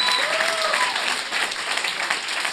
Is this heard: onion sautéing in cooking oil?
no